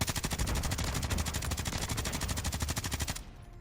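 Rapid automatic gunfire in Call of Duty MWIII, bullets fired through walls and a sweeping radar, a continuous fast stream of sharp shots for about three seconds before stopping abruptly.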